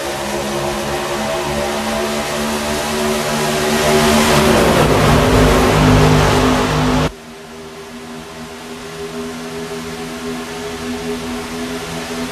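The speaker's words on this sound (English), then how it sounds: "We are back racing here at the Talladega Super Speedway." Truck-series racing trucks roar past at Talladega Superspeedway, a loud, sustained engine drone with harmonic whine that swells as the field passes close, then abruptly drops to a steadier, more distant hum.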